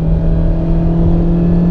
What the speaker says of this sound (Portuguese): O ronco do motor invade a cabine.